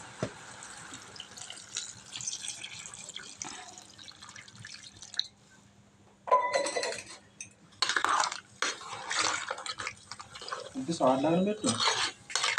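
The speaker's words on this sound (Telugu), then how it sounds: "నీళ్ళు అయితే పోసుకోవాలి" Water is poured into a pot of bottle gourd curry soured with tamarind, coming in splashing, gurgling bursts after a quieter stretch of faint kitchen clinks and drips.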